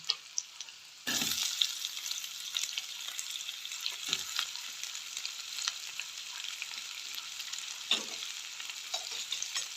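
Onions and garlic fry in butter in a pan with a steady close sizzle, starting suddenly after a brief quieter moment, broken by a few soft stirring knocks.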